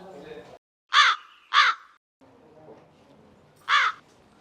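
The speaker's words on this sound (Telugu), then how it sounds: "కానీ కాకులు ఉరుతున్నాయి" Three loud crow caws stand out, two close together and one a bit later, against quiet background noise.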